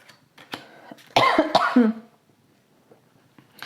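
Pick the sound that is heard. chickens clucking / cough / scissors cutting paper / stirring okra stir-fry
cough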